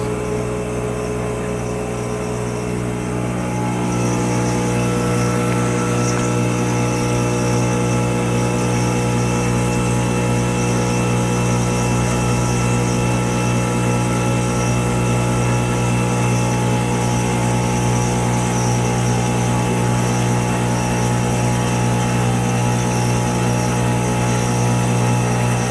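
A milling machine cuts a Lenco Hemi bellhousing in shallow passes of a tenth of an inch, giving a loud, steady, droning whine with a constant hum underneath that swells slightly after the first few seconds and then holds evenly.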